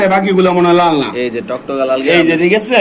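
Caged pigeons give low, rolling coos, close and fairly loud, mixed with voices talking nearby throughout.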